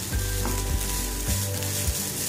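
Cauliflower rice sizzles steadily in a hot pan, and the sound shifts briefly a few times as it is stirred. The frying is close and continuous, with no voices.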